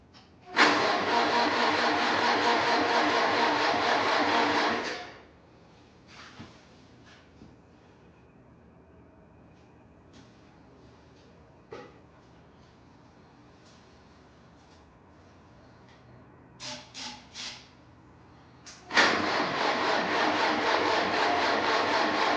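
A 1955 Farmall Cub tractor engine spun over on the starter in two loud, steady cranking bursts of about four seconds each, separated by a quiet stretch with a few faint clicks and taps, without catching.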